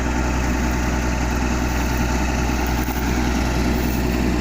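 A vehicle engine idles and runs steadily at close range as the driver sets off on an evening drive, a continuous low rumble with vibration and no talk over it.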